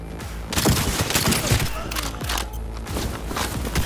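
Dense gunfire in the video game Cyberpunk 2077, continuous rapid shots mixed with thuds and booms, loud and close throughout.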